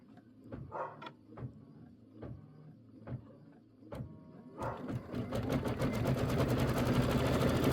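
Embroidery sewing machine running an outline stitch, a few slow spaced needle thumps and clicks giving way to a rapid, steady mechanical whirring chatter, fairly quiet and close.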